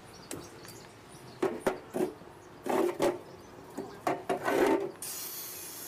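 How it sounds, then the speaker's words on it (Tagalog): A grinder fitted with a steel wire brush scrubs old diesel engine parts clean during a restoration, giving short rasping bursts in an irregular rhythm, close and moderately loud, with quiet gaps between passes. "at pinalis niya muna ng gamit ang grinder. Ito po yata yung steel brush ang ginamit niya."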